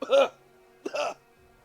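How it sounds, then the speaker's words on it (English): In the video game Tyrants of the Moonsea, two short, harsh hacking coughs separated by a brief pause, close and fairly loud, with quiet afterward. "a hacking cough racks him"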